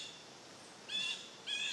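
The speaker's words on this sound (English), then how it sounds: "Yeah, it was a loud bird." A loud bird calls outdoors at rural land, two short bursts of bright, clear notes in quick succession over a quiet background.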